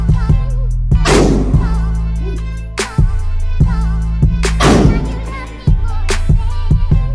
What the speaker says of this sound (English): We let her get a couple shots.